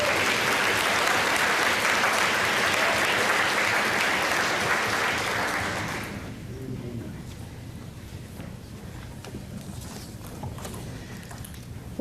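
A large audience applauds at a college convocation ceremony with a loud, dense roar of clapping that holds for several seconds, then fades abruptly into a quieter hall with scattered claps and room noise.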